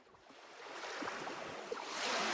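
A wash of surf rolls in, a steady hiss and rumble of waves that swells louder near the end, with no voices.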